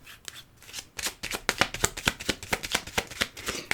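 Tarot cards shuffled by hand in a steady run of crisp, riffling slaps and flicks, close and fairly loud, quickening into a regular beat with no talk.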